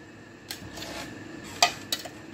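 Ingredients stirred in a pan with a seasoning blend, giving a few scraping and clinking utensil strikes close by, with one sharper knock near the middle and no talking.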